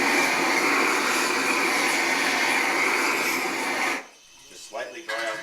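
A blow torch flame plays over the surface of a salsa bowl to dry it, a loud steady roaring hiss lasting about four seconds before cutting off, with faint handling noises afterward.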